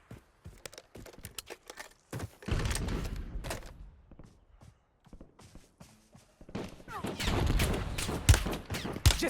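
Gunfire in the battle royale game Warzone, bursts of shots and impacts spread through the clip with quieter gaps between, loudest near the end.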